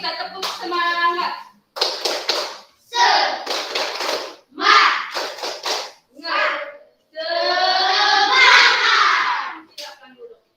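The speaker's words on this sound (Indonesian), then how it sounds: "Mari sebelum dulu kita tepuk semangat" A primary-school class performs a rhythmic spirit clap, with groups of sharp hand claps alternating with loud children's chanting, close by and energetic, ending in a long sustained shout.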